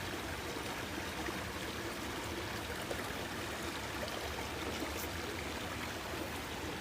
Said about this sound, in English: Beautiful little river here.